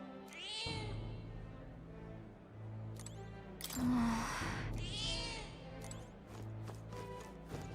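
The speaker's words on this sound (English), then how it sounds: "Hello, cat." A cat meows repeatedly in the Metaphor: ReFantazio video game, the drawn-out calls rising and falling over a steady game music bed, with a brief louder rustle in the middle.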